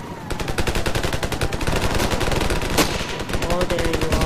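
Rapid automatic gunfire in the video game Ravenfield, a loud, steady stream of evenly spaced shots that continues throughout with no pauses.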